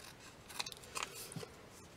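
Scissors snip at a paper butterfly for an envelope, with a few faint, close cuts and soft paper rustling in a quiet room.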